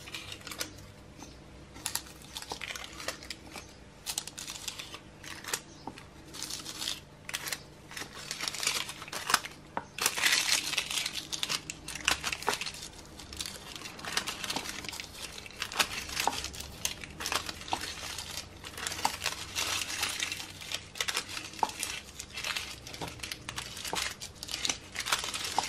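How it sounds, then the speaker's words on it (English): Greaseproof paper being peeled away from thin piped cupcake soap decorations: a steady run of close, dry crinkling and crackling, in irregular bursts that grow denser and louder toward the middle and carry on to the end. "So let's just take all of the greaseproof paper off those."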